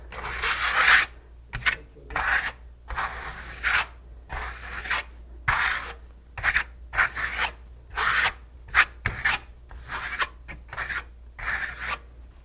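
Repeated rough scraping strokes across a surface, each lasting about a second, coming in a steady back-and-forth rhythm up close.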